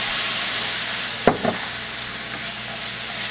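Onions with curry powder and a splash of vinegar sizzle steadily in a hot pan, with one sharp scrape of a spoon as they are stirred and a softer follow-up touch.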